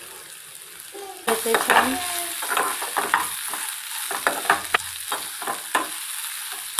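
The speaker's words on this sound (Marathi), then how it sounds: "यामध्ये आपण सोया चंक्स टाकून घ्यायचे।" Soya chunks and cooked rice stirred and fried in a hot pan, a steady close sizzle that jumps louder as the food goes in, with repeated scraping spatula strokes and a brief word spoken over it.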